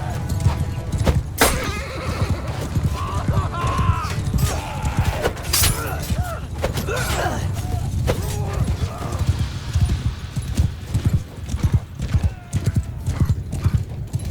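Cavalry hooves clip-clopping and horses whinnying amid a chaotic medieval battle in Mount & Blade II: Bannerlord, with clashing impacts and crashes layered over steady galloping, loud and close throughout.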